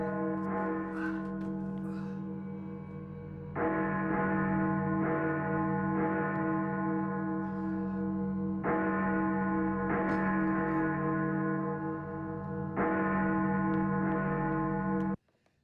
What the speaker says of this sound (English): How annoying would that be, just hearing the sound of bells the whole time?